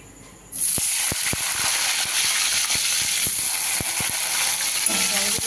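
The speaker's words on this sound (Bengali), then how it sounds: "দুটো টমেটো আর এই যে আদা বাটাটা আগে দিয়ে দিচ্ছি তেলে" Two tomatoes and ginger paste drop into hot oil with bay leaves for paneer chilli butter. A bright hiss starts abruptly and holds steady, with scattered sharp clicks and spatters.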